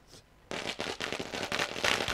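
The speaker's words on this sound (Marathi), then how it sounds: "ज्यांच्या आगमनानं बघा आतिषबाजी केली जाते, फटाक्याच्या आतिष" Fireworks and firecrackers burst at a local cricket tournament, a dense run of loud crackling pops that starts abruptly after a brief quiet moment.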